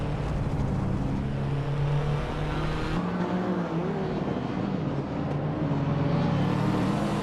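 Race cars roar continuously in a racing video game, several engines droning and shifting pitch together at close range with no talk over them.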